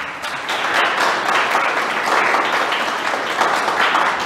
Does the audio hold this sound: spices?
no